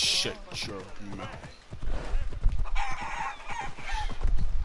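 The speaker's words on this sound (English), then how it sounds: "Shut up, chickens." Chickens cluck in the video game Assassin's Creed Odyssey, the fowl sounds mixed with game ambience and someone talking over them throughout.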